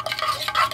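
A spoon stirs a Milo drink in a cup, giving a brief, close, continuous scraping swirl with no voices.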